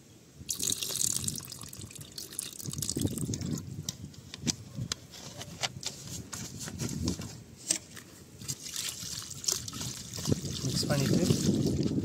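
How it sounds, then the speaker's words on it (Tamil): Water poured into a bucket of Berger WeatherCoat Long Life exterior paint mix already holding the chemical, a steady trickle and splash running throughout with occasional drips, while people talk over it. "இப்போ தண்ணி ஊற்றுறாங்க."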